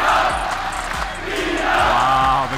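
Crowd at an Oktagon MMA fight roaring and cheering loudly, a swelling wall of voices with shouts rising toward the end.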